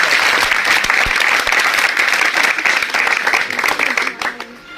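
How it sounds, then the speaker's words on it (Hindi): Loud, sustained applause from an audience of PRI members, students and frontline workers welcoming an SDM at a panchayat gathering, dense clapping throughout that fades slightly at the end. "सभी एक बार जोरदार तालियों से स्वागत करते"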